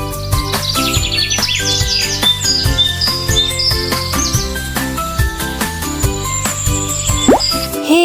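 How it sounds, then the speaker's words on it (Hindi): Cartoon bird chirping, bright quick tweets repeating over a busy, bouncy music track with plopping percussion, moderately loud throughout. "चे से चिड़िया, चिड़िया बोली।"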